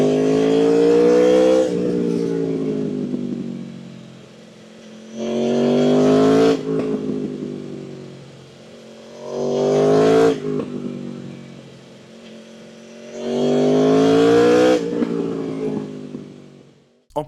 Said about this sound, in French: ce son du V4, il est vraiment indescriptible.